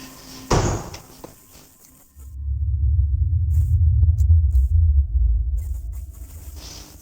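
A heavy cellar door or hatch slams once with a sharp bang, followed after a pause by a deep, loud rumbling boom that lingers for several seconds in a quiet room.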